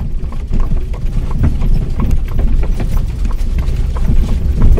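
A horse's hooves clip-clop in a steady rhythm close by, with the rolling rumble and rattle of an Amish buggy underneath.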